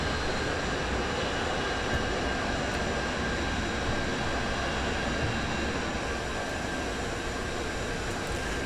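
Leonardo M-346 Master jet trainer on approach for a short, shallow landing in Microsoft Flight Simulator, a loud, steady broadband jet engine roar with a constant whine, unbroken and close throughout.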